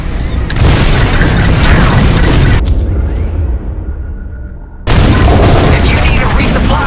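Bombs dropped during a raid in Star Wars: Squadrons explode in loud, heavy booms that fill the mix, with a deep rumble that fades before another blast cuts in, while voices talk under the explosions.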